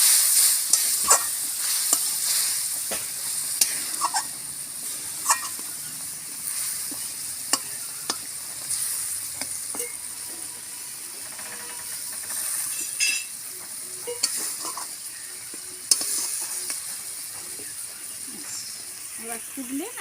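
Green tomatoes with ground mustard paste sauté and simmer in a pan, a soft steady sizzle broken by frequent spoon scrapes and clinks, with someone talking over the cooking.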